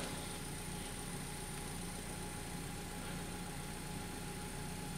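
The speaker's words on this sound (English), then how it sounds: "The only thing that is making noise is my car, and that's idling." A car engine idles at an outdoor roadside testing site, giving a quiet, steady, even hum with no change in pitch and no one speaking.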